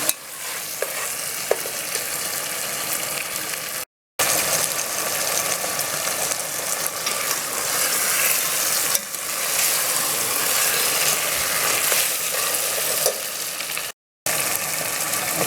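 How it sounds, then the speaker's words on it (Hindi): Kaleji (liver) masala frying in a pan, a steady close sizzle with stirring and scraping throughout and two brief dropouts, no talking. "साथियों ये अच्छे से फ्राई हो रहा है"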